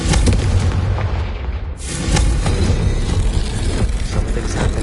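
A Confringo blasting spell explodes in Hogwarts Legacy: a loud, booming blast with a rumbling, crackling burst that briefly drops out, then a second heavy explosion rolls on and decays.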